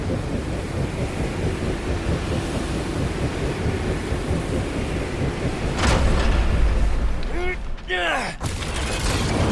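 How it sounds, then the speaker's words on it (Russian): Strong wind gusts roar through a Guardians of the Galaxy video game scene near giant turbines, a constant loud rush with a heavier surge and metallic creaks, under voiced dialogue. "Этот ветер не сломит нашу решимость."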